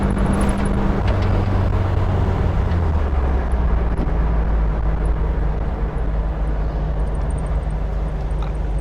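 A 1973 VW Thing with new front drums and a steering damper drives along a road, giving a loud, constant low engine drone and road rumble from inside the cabin with no talking.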